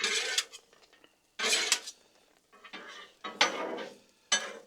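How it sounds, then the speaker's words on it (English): Blueberry biscuit bites being stirred on a Blackstone griddle: about five bursts of metal spatula scraping and clattering on the hot flat-top, separated by short pauses, close and fairly loud. "you just want to stir these up every, 15 seconds or so"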